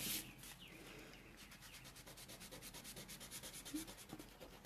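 An eraser rubbing out a pencil drawing on paper, faint rhythmic back-and-forth scrubbing strokes repeating quickly for a few seconds, close and quiet.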